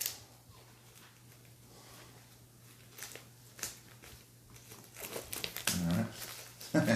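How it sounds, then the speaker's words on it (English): Close crinkling and tearing of shrink wrap being peeled off a new vinyl record, soft scattered rustles at first that build into louder crackling bursts near the end, with no talking. "we have taken it out of the shrink wrap once again"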